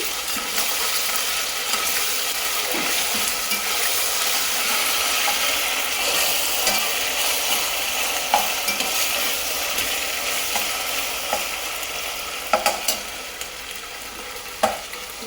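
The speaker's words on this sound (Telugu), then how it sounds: "అల్లం వెల్లుల్లి పేస్ట్ కూడా పచ్చివాసన పోయేంత వరకు వేగించుకోవాలి" Ginger garlic paste sizzles steadily in hot oil while being stirred, with a constant frying hiss and occasional sharp clinks of a spoon against the pan, heard alone for the whole stretch.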